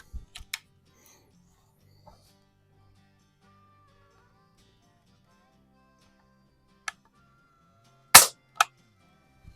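A small spring-piston air pistol plinker fires a sharp, close crack near the end, alongside a few lighter clicks and ticks scattered through otherwise quiet air.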